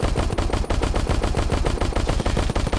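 Rapid bursts of gunfire from a weapon in the VR shooter Crashland, loud and close, with dense repeated shots filling the whole stretch and no talk.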